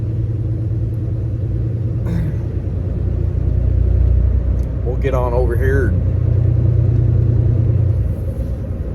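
Steady low engine rumble and road noise from a truck cruising along, heard from inside the cab, with someone talking briefly over it.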